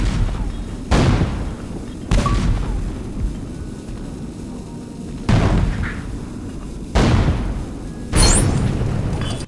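Heavy booming cannon blasts from the Lego Pirates of the Caribbean video game, five loud shots spaced a second or two apart, each a sharp crack trailing into a rumbling roar over continuous low battle noise.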